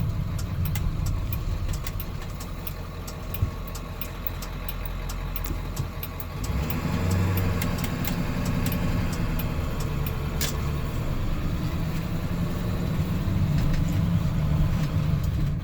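A 1995 Ford F250 extended cab with a 7.3 Powerstroke diesel runs steadily, a low rumbling engine note that grows fuller partway through, with faint ticks and clicks on top and no voices.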